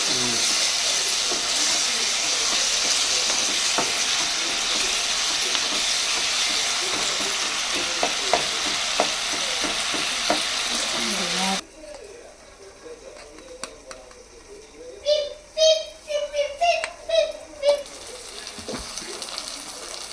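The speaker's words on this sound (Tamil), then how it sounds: "தக்காளி கொஞ்சம் வதங்கட்டும்" Tomatoes sauté in a hot pan for chicken gravy, a steady loud sizzling hiss that stops abruptly, followed by scattered stirring clatter and utensil knocks.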